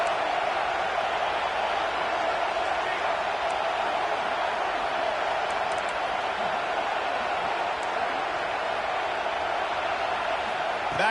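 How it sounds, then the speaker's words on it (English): Football stadium crowd roaring in support of the defense on a third-down play, a steady, dense wall of cheering and noise that holds loud and unbroken throughout. "Decibels rising as the crowd gets behind this defense on third down"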